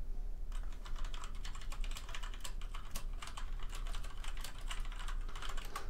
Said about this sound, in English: Tafa, why are you typing?